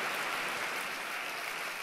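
An audience at a Spanish political talk applauds, a steady wash of many hands clapping at once, fairly distant and even, with no voices above it.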